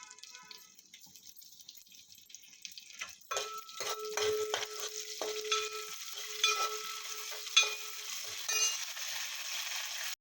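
Mustard seeds, cumin, green and dry chillies, garlic, curry leaves and asafoetida hit hot oil for onion rasam: a quiet start, then a steady close sizzle with scattered sharp pops and crackles as the seeds splutter.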